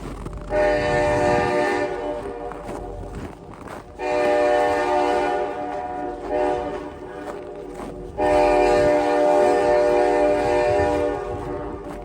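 A train horn blares in three long, loud blasts with rumbling rail noise between them, close and alone with no voices.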